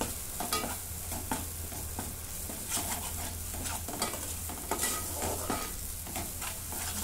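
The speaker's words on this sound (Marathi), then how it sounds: "चला, हे भाजून घेते मी चांगलं." Ground masala paste being stirred and roasted in a pan for a village-style egg curry, a low close sizzle with repeated scraping strokes of the spoon at an even rhythm, no voices.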